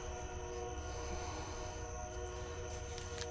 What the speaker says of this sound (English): So while we listen to the train